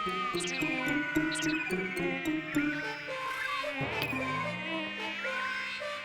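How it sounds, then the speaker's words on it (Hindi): A thin, wavering mosquito whine hovers right beside the ear, rising and falling in pitch for several seconds, close and persistent with no voices. "एक तो मच्छर हमारा कान में गुनगुना रहा है"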